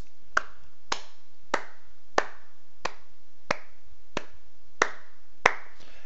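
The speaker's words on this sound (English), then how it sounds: "Yes, that's a slow clap for how bad that just went." Nine single handclaps ring out one by one at a slow, even pace, each sharp and close, with silence between them.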